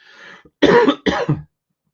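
A few sharp, loud coughs close by, the first faint and throaty, then two heavy bursts in quick succession, ending in silence.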